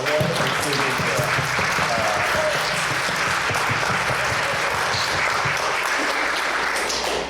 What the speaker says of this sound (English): if you could join me in giving a massive thank you and an applause for everyone that's speaking here